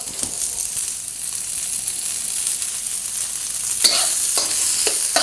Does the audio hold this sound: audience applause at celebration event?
no